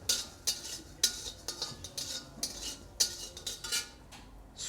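A spoon stirs coriander seeds and fenugreek roasting in a metal pan, giving repeated light scraping and clinking strokes, close and fairly faint, with no talk.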